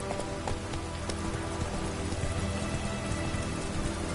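Roach the horse's hooves clip-clop steadily in The Witcher 3 DLC over a constant rain-like hiss, fairly loud and continuous, with no voices.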